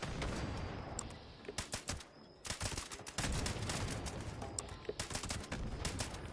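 A rapid string of explosions and gunfire bursts in Fallout 76, the cracks and booms coming in dense clusters with short pauses between.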